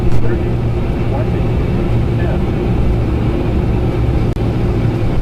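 A Lear Jet touches down on a ranch runway, heard from inside as a loud, steady roar of engine and rolling noise that stays even throughout.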